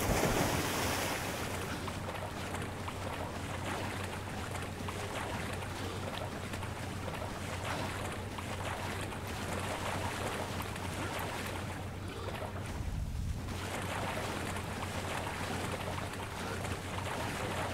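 A character swims through open water in the Sleeping Dogs video game, with a continuous washing, splashing surf sound and no talk.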